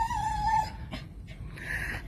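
A dog whimpers softly close by, with a thin high whine followed by brief breathy snuffles and a faint second whine, quiet and alone.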